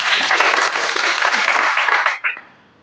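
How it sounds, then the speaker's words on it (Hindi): Studio audience at a Hindi quiz show bursts into loud, dense applause that holds steady for about two seconds, then breaks off abruptly, leaving a few scattered claps fading into quiet. "अरे ताली तो तेज बजा दो भाई"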